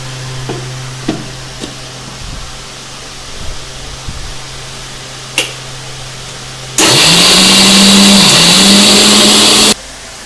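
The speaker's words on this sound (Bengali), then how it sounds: "এবার আমি এটা মিক্সিতে বেটে নিচ্ছি" A mixer grinder coarsely grinds soaked chana dal with no added water. After a quiet stretch with a few light knocks, the motor bursts into a loud, steady whirring roar for about three seconds, then stops abruptly.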